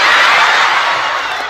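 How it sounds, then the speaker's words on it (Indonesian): An audience at a comedic talk or sermon bursts into a short, loud wash of applause and cheering that fades slightly within a second and a half. "Ini tepuk tangan baru kau ambil."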